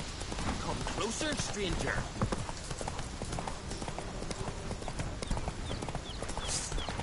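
A horse gallops in a PS4 video game, with rapid rhythmic hoofbeats running steadily throughout, while character voices speak over the clip-clop.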